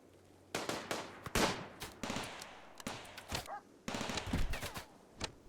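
Colonists firing guns in the video game RimWorld: sharp bursts of gunfire in irregular clusters, some rapid volleys and single cracks, fairly loud with quiet gaps between.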